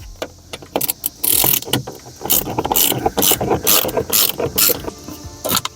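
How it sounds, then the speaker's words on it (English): Quarter-inch ratchet turning an 8mm bolt on a Ford F150 during a tow mirror install: rapid bursts of close, crisp clicking from the pawl, repeated in quick strokes with short pauses between them, no talking. "So we'll grab the 8 and our 1/4-inch ratchet."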